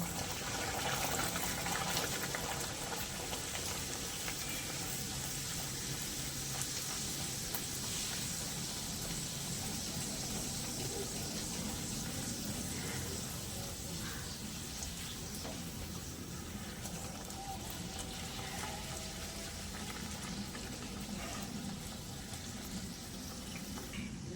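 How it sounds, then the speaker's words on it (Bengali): A steady, dense sizzle of radhaballavi, a Bengali stuffed flatbread, frying in hot oil runs continuously and evenly throughout, with no voices. "রাধা বল্লভী ভাজা হয়ে গেছে, এবার তুলে নেব।"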